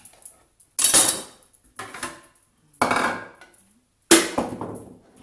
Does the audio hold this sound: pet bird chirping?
no